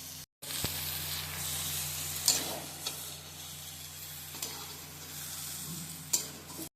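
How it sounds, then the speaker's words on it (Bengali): Prawns are stirred into a curry in a frying pan with taro and lentils, a soft steady sizzle broken by several spoon scrapes and taps against the pan, quiet and close with no talking. "এবার আমি চিংড়ি মাছটাকে ভালোভাবে মিশিয়ে নিচ্ছি"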